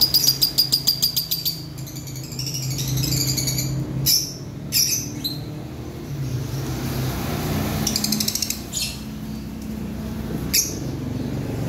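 Pet lovebirds in an aviary give sharp, high chirps in quick bursts and scattered single calls over a low background hum, with brief rattling taps in between.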